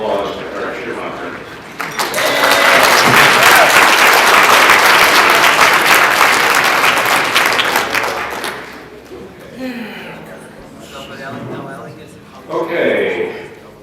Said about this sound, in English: I think you all owe a round of applause to Eric Schumacher.